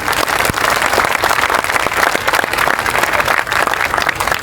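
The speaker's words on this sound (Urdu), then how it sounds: "آپ کی تالیوں سے اندازہ ہوگا کہ اعلان سے خوشی کتنی ہوگی" A large audience at a public speech event in Jhang bursts into dense, loud applause, continuous clapping from many hands with some crowd noise throughout.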